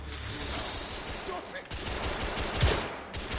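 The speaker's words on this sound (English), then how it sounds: "Oh, come on, I shot him in the fucking head." Continuous gunfire in the video game The Order: 1886, a dense, rattling fusillade of overlapping shots with a louder burst near the end, under a steady noisy roar with no talking.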